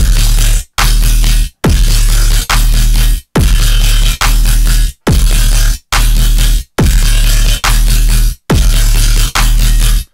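Heavy, loud dubstep bass growl made in the Serum synth, pulsing in repeated chunks with sharp sidechain-style dropouts between bursts, no voices.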